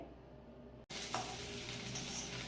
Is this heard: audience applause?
no